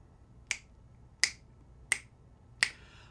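Four crisp, evenly spaced sharp claps or snaps ring out alone in a quiet room, each with a brief decay, marking a steady beat.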